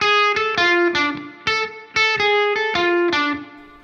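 An electric guitar plays the first two phrases of the intro, a rhythmic run of about a dozen bright picked notes in repeating patterns, close and alone with no voices.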